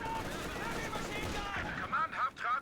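Gunfire barrage in a video game battle against Axis forces, heard as a dense, continuous rattle of shots filling the whole stretch, with a voice speaking over it toward the end.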